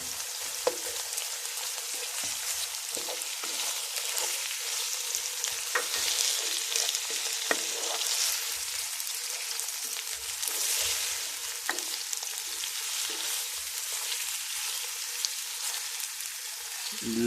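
Chicken, cabbage and tomato fry steadily in a pan with a constant bright sizzle, broken by frequent scraping clicks of stirring throughout; no one speaks.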